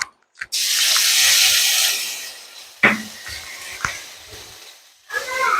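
Ground cumin paste hits hot oil with tempered spices in a pan, setting off a loud, bright hiss that slowly fades. A few short clatters and brief sounds break in later.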